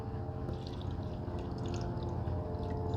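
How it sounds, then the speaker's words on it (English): Water being poured into the reservoir of an ice maker, a low, continuous gurgling pour with a faint trickle on top, steady and close throughout with no voices. "So we're going to go ahead and add some water to this"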